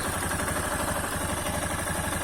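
Engine of a Yamaha XTZ Lander 250 motorcycle running steadily at idle after repair, a close, even, low mechanical thrum with a light clatter and no talk.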